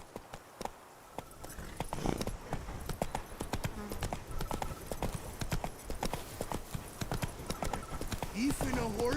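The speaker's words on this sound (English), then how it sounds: "Even a horse drops if you ride it with a constant gallop." Rhythmic clip-clop of horse hooves at a steady gallop in the video game The Witcher 3, close and continuous, with a horse whinnying briefly near the end.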